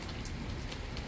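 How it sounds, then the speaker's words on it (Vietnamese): Rain pours steadily on a fishing raft at night, a dense, loud hiss of drops drumming on surfaces with no gaps, heard alone without talk. "Trời mưa quá chừng luôn rồi nè, trời đang mưa nè"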